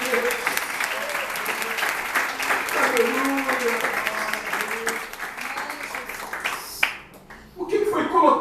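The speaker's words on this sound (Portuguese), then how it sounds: "Você pode aplaudir a Jesus Cristo de Nazaré" A church congregation applauds during a sermon, a sustained, dense clapping from many people with voices calling out through it, then briefly dropping away before the clapping picks up again.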